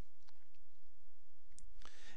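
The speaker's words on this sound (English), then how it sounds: "I'm going to hit Control C on my keyboard" Two or three light keystrokes on a computer keyboard for a Control C copy shortcut in Photoshop, faint and close, a short click near the start and a brief cluster near the end over steady low room hum.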